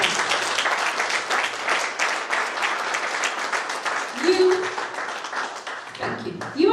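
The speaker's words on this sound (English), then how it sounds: "You ought to applaud that." Audience applause at a school clinic launch in Merebank, a steady dense wash of clapping filling most of the clip, fading near the end as a voice begins speaking.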